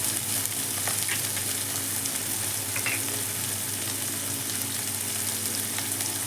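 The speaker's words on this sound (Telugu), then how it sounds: "కాస్త వేగనిద్దామండి" Sliced capsicum and carrot frying in hot oil in a pan, a steady close sizzle that holds level throughout with a faint stir or two.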